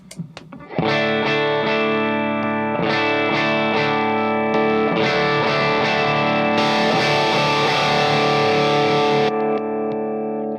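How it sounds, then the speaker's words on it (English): An electric guitar rings out sustained chords that grow gradually grittier and more distorted as gain builds, loud and close throughout. "here's the same intensity, adding gain slowly"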